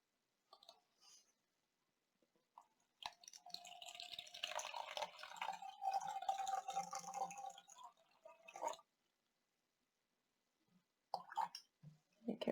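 Clear water poured into colored water to make a more dilute solution, a steady close trickle and gurgle lasting several seconds, followed by brief soft sloshes.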